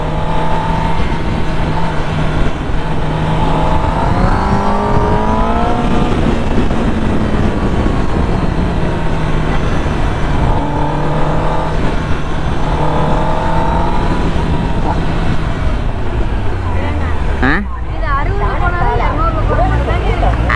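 Engine of a radio-controlled car running, a buzzy whine that rises and falls with revving through most of the stretch, heard under steady conversation before a sudden knock and drop near the end.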